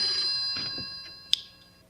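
A telephone at an inn keeps ringing, a steady, slightly muffled electronic trill sounding alone with a sharp click partway through.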